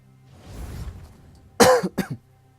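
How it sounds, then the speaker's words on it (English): A person recovering from a recent fever coughs sharply two or three times in quick succession after a soft breathy rasp, close to the microphone and otherwise quiet, during a League of Legends gaming session. "I'm coughing because I just had a fever the other day."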